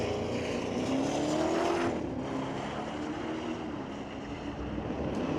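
A 23 Dodge drag car with a Hemi engine races down a street-legal drag strip at Mission Raceway Park, a loud, continuous engine roar rising in pitch as it speeds away.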